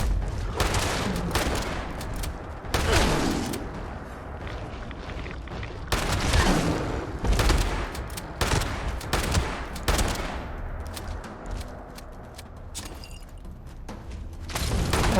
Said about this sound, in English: God, the shotgun reload helps a lot.